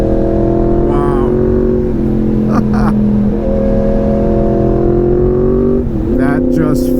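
A Yamaha MT-10 motorcycle engine drones loud and steady under a rider's talk, its pitch rising and shifting through gear changes as the bike accelerates hard.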